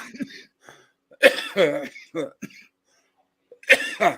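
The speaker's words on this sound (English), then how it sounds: "I got to cough my ass off." Several harsh, raspy coughs burst out in short fits with brief pauses between them, close to the microphone.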